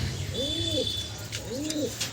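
Two soft, rolling coos from a caged pigeon, one after the other with a short pause, with a faint high chirping in the background.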